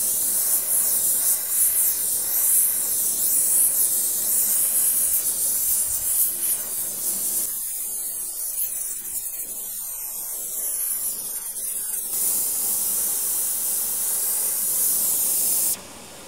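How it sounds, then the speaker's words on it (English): A propane torch heats a W1 tool steel bolt with a loud, steady, close roaring hiss that continues almost unbroken and changes in tone midway. It cuts off at the very end. "use the torch, and we're just going to try to heat it up to about 300 degrees or so and then let it cool"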